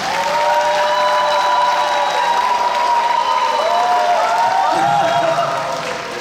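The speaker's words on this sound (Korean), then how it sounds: "박수로 환영해 주시죠." An audience at an outdoor music hall applauds a guest being introduced at the opening of a choir festival in Suwon. The clapping is steady and fairly loud and blends with a crowd murmur and sustained tones for about six seconds.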